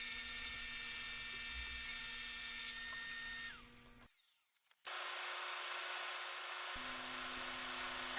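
A jigsaw cutting wood discs whines steadily at close range, cuts off briefly, then starts up again with a harsh buzzing drone that continues to the end.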